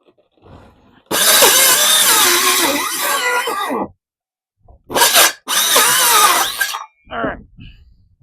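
Power drill boring into wood during a mini mobile cabin build, with a long loud whirring burst followed by shorter bursts and starts after pauses.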